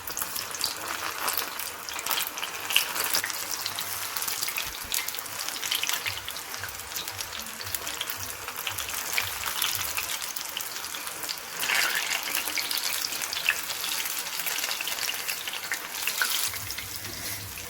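Avarekalu bonda frying in hot oil over a medium gas flame, a steady dense sizzle and crackle that holds throughout with no voices.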